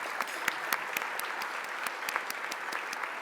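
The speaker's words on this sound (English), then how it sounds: "a big round of applause for the John Baboyan Trio who entertained us during the cocktail hour" A gala audience claps for the John Baboyan Trio, a steady wash of applause with scattered sharper hand claps, moderately loud and continuous with no voices over it.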